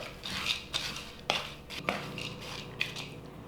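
Partly defrosted potatoes being tossed with granulated garlic, onion powder and smoked paprika in a bowl, a few sharp clinks of a utensil against the dish over soft shuffling, close and fairly quiet.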